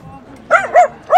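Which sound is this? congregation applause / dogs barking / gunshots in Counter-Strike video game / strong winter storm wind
dogs barking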